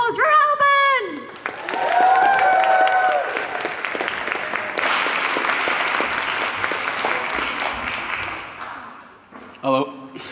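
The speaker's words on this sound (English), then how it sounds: "give a warm round of applause for Alban!" A science slam audience breaks into loud, sustained applause for a speaker, with cheering and whistles in a dense crowd roar. A voice speaks at the start and end.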